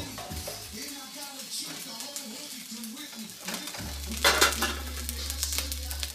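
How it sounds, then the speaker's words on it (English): A Thai vegetable stir-fry sizzles in a pan with light clinks of a utensil, and someone talks over the cooking before a louder burst of sizzle and a steady low hum take over. "Thai vegetable stir fried"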